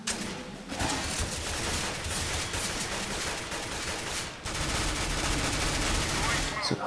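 Rapid gunfire from the video game Counter-Strike: GO, dense bursts of shots running almost continuously with a brief gap partway through, loud and busy, with some voice mixed underneath.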